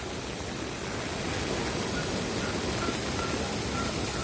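A river swollen by Typhoon Uwan in San Jose del Monte, Bulacan, rushes past in a steady, dense roar of churning water with no breaks.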